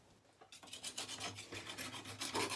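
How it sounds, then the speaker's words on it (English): A tool scrapes gunk off a water-damaged bathroom surface in rapid, rasping back-and-forth strokes that start after a brief quiet moment and continue steadily, close and fairly soft, with no talk. "I'm just scraping some of this"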